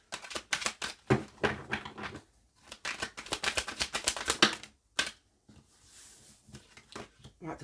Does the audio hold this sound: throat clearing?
no